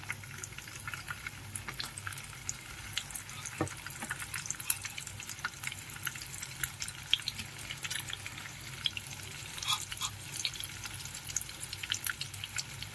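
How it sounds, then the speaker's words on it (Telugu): Mushroom pieces frying in butter and oil for butter chilli mushroom: a steady, even sizzle and hiss with a few faint crackles, close and constant throughout, with no talking. "ఇప్పుడు ఇందులోకి మనం ముందుగా కలిపి పెట్టుకున్న మష్రూమ్ పీసెస్ని యాడ్ చేసుకోవాలి."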